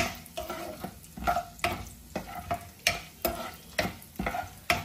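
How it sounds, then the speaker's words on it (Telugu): Spices and dried red chilies are tempered in hot oil in a pan, with a steady close sizzle and regular scraping stirs about twice a second, and no voices. "ఇప్పుడు ఒక 1 మినిట్ కొంచెం ఫ్రై అవనిద్దామండి పోపుల్ని."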